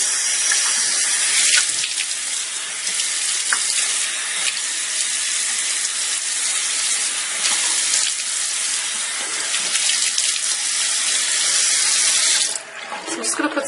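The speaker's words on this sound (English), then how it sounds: "I'm just going to put some water all around" A tap runs steadily into a bathroom sink as water is splashed onto a face, a loud continuous hiss close by that stops abruptly near the end.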